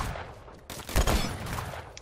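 Mateba 6 revolver firing in the game Phantom Forces, with a couple of sharp, booming shots in close succession after a short lull, loud and close.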